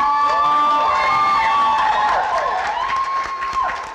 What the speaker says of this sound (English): it's a well-deserved round of applause